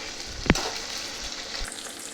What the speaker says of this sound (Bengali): মশলা ভাজতে ভাজতে